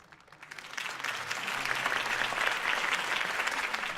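Crowd applause breaks out after a mayoral campaign speech in the Batman Telltale video game, a steady wash of many hands clapping that swells and holds at moderate loudness, with no talking over it.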